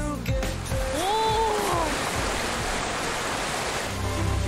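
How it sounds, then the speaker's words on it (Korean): A waterfall fountain sprays water along the Tamjin River in Jangheung, summer: steady broadband rushing and splashing fills the whole stretch, with faint voices and brief squeaks riding over the constant spray. "시원하게 물줄기를 내뿜는 폭포 분수"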